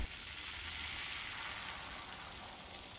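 Kuih bakar batter hits a hot oven-heated mould and sizzles steadily, a fine crackling hiss holding even for the whole stretch with no voices over it.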